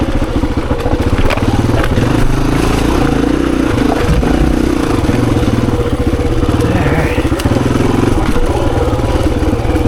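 A 26-year-old Honda XR400 dirt bike ridden on a hard enduro singletrack loop, its single-cylinder engine chugging and revving close up throughout, with clatter and scrapes from the trail.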